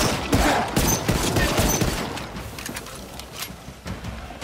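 Rapid bursts of gunfire from the video game Dying Light 2 crackle in quick succession, dense at first and then thinning into scattered shots.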